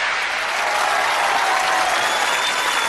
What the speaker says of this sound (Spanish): Y la gente aplaudía así.